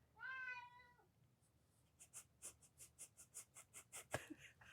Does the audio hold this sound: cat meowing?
yes